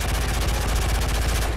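Rapid automatic gunfire in Call of Duty Modern Warfare 3, dense and continuous bursts of shots running loud throughout with no pauses.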